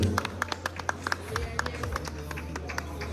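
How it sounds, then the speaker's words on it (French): Scattered hand claps from a small crowd ring out, uneven and sparse, over a low hum with some voices in the background. "Et applaudissements pour les sortants, s'il vous plaît, mesdames et messieurs."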